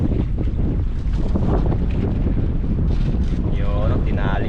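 Strong wind buffets the microphone outdoors near the water, roaring steadily throughout the clip, with a voice briefly heard toward the end.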